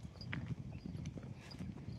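Horses walking in single file, one tied behind another and led by hand, their hooves clip-clopping in a steady uneven rhythm close by, with no talk over them.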